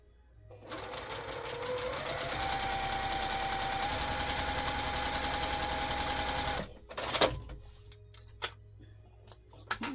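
A sewing machine chain pieces fabric through in one long, steady, close run for several seconds, rising slightly in pitch before stopping, followed by scattered clicks and handling noises.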